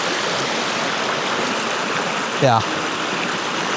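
A creek flows over rocks beneath overhanging trees on a Norwegian trail near Bergen, giving a steady broadband rush throughout; a person speaks briefly near the middle.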